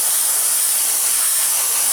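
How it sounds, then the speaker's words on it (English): An airbrush sprays Tamiya XF82 paint across the parts of a 1/32 Wingnut Wings RE.8 biplane model kit, a steady, loud, unbroken airy hiss held close throughout. "we're going to take a lighter colour, XF82, spray it through"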